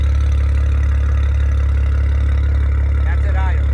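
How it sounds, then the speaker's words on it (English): A Maserati Levante Grand Sport SQ4 engine idles steadily, a loud constant low rumble with an even pulsing hum, while a person talks briefly over it near the end. "But now you can hear this, that Maserati sound."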